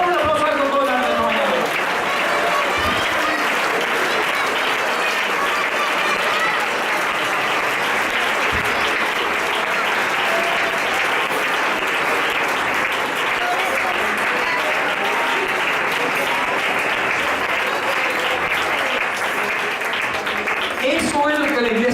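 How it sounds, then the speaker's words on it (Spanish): A church congregation applauding during a Sunday school sermon, a loud, dense, sustained round of clapping with a few voices mixed in. "Dame un aplauso a todos los hermanos."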